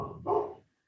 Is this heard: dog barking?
yes